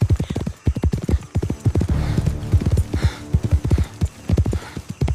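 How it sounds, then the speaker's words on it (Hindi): Two horses carry riders at speed through a dense forest, with loud, rapid, rhythmic hoofbeats that pound close and continuously. "दोनों घोड़े पर बैठकर उसके गांव की तरफ निकल पड़ते हैं।"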